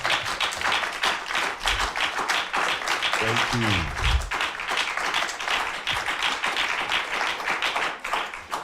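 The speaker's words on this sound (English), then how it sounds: "Do you know why they are clapping so much for you?" A studio audience claps for a child news anchor at the close of a children's news broadcast on a TV reality show. Dense, steady applause carries throughout, with brief spoken thanks and a deep thud partway through.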